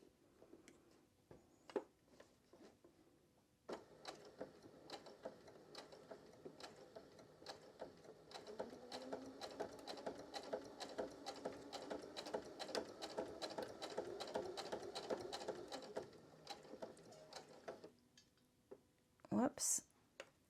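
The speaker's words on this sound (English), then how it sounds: "So I'll continue to sew." A domestic sewing machine stitching quilt backing and self-binding on a bench pillow wall hanging, a steady fast whirring needle rhythm running for long stretches with brief pauses, and a person talking quietly over it.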